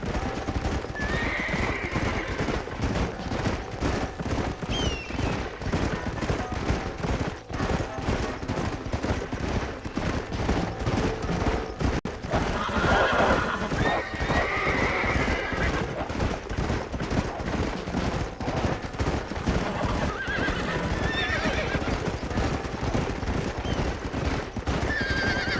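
In Red Dead Redemption on Xbox One X, horses whinny repeatedly over a constant clatter of galloping hooves, with bursts of gunfire-like cracks in a busy game soundscape.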